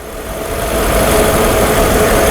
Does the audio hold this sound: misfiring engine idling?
yes